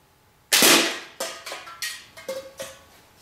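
A slingshot with balloon bands fires 3/8-inch steel balls, a sharp loud snap first followed by about six quicker, lighter cracks at uneven intervals, each with a short metallic ring, close by and alone.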